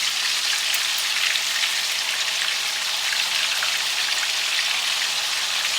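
Steady, dense sizzling and crackling of lightly seasoned saltwater cusk fish frying in hot oil, continuous and close, with no voices.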